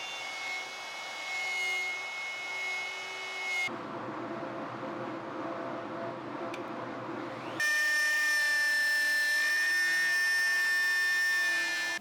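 Router cutting a wooden bass neck, a loud high-pitched motor whine that shifts in tone as the bit bites into the wood, drops to a rougher cut midway, then returns louder near the end.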